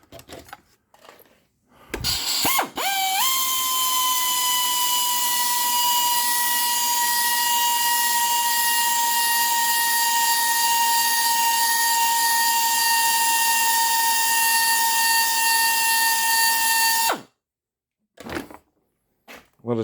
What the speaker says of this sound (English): we're just going to do a normal in and out hone here